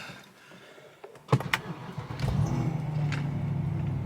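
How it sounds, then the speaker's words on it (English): A BMW 650i E64 engine cranks on a cold start: after a second of near silence come a few sharp cranking bursts, then it catches into a steady, loud idle that holds to the end. "we'll see how she cranks up cold."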